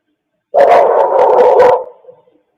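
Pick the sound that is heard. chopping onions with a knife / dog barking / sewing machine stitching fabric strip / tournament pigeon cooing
dog barking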